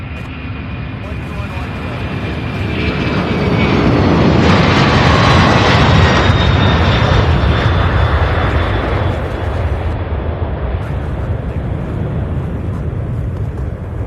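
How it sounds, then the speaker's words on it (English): Airbus airliner jet engines at Louisville International Airport produce a loud, broad roar that swells over several seconds, peaks midway and then holds as a steady rumble with a faint high whine. "here's the Airbus."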